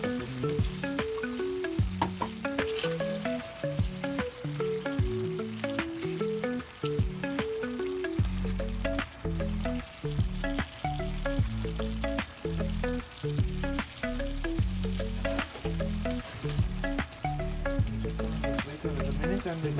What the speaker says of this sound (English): I have a little vinegar and 2 spoonfuls of oil in here. I'm going to start my escovitch. I'm just going to place my onions inside.